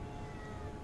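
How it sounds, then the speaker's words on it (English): A cat in Fallout 4 gives a quiet, brief meow lasting under a second, low in level against a steady game background. "What do you want, cat?"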